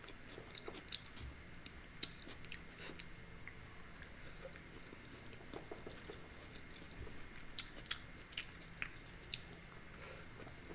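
Soft, close chewing of carrots from chicken noodle soup, faint moist munching with small irregular clicks and squishes over a quiet room, no speech.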